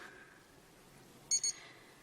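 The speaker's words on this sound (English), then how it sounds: "an alarm, and it beeps on the hour" A digital wristwatch alarm gives two quick, short, high-pitched beeps, faint and close against a quiet background.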